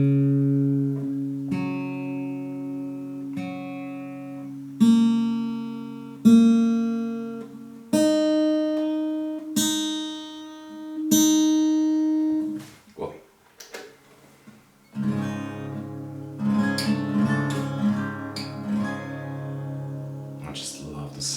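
Acoustic guitar being tuned, with single plucked strings and short strummed chords repeated at intervals, the pitch checked string by string, close and moderately loud with pauses between plucks and no speech.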